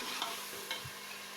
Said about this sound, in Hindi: इसको भी हम भूनते हैं, थोड़ा सा इसको गलाते हैं ज़रा